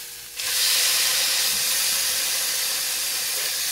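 A steak hits hot butter in a pan after flipping, bursting into a loud, close sizzling hiss that starts abruptly and holds steady.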